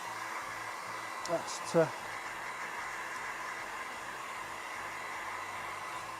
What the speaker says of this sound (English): next let's just give these another bash with the heat gun